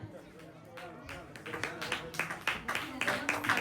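Audience applause breaks out at a prize announcement during the Mishkath Fest 2024 event in Oman, with a rising patter of clapping building over a speaking voice.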